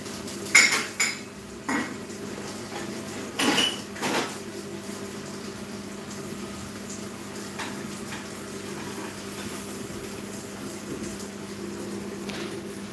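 Plates and dishes clatter and clink while fried eggplant is served at home, a few sharp knocks early on then quieter handling over a steady low hum, with no talk.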